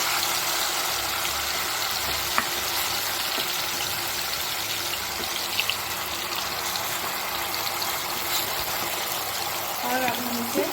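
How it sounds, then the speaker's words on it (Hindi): Steady, loud broadband sizzling hiss of marinated mutton frying in hot oil for Hyderabadi dum ka gosht, continuous throughout with faint crackles and a few brief clinks. "अब हमारा तेल गर्म हो चुका है, 1 घंटा हो चुका है। अब हम अपना मैरिनेट किया हुआ मटन इसमें ऐड करेंगे"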